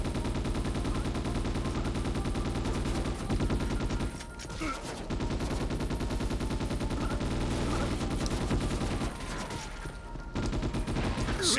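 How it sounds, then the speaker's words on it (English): Enemy gunfire in the Ghost in the Shell: S.A.C. video game, dense rapid automatic fire that continues almost without a break, loud and close, with brief pauses and a faint voice underneath. "And the motherfuckers are already shooting"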